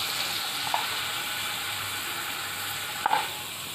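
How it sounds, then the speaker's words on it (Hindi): Hot oil tempering poured over chicken hareesa kebabs gives a soft, steady sizzle, faint and continuous, with a couple of small clinks or taps from utensils. "ऐसे तड़का इसका ये हम इस पे डाल सकते हैं"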